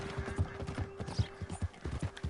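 Horse hooves clip-clopping in the video game Red Dead Redemption 2, a steady walking rhythm of hoof strikes close up, with a faint tonal hum underneath.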